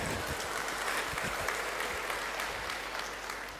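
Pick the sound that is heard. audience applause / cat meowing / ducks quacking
audience applause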